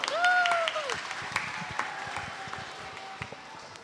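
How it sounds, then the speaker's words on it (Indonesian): Audience at a children's Sunday school Christmas service claps, a brief burst of applause that quickly thins into scattered claps, with a voice and some crowd noise mixed in. "Beri aplaus dulu."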